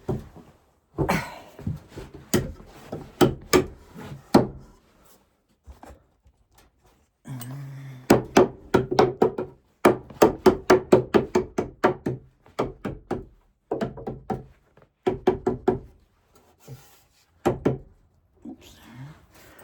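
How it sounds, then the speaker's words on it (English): A hammer pounds nails into wood while building a mini deck for a chicken coop, in quick bursts of sharp knocks, with short pauses between groups of blows. "I gotta have a hammer if I'm gonna pound nails"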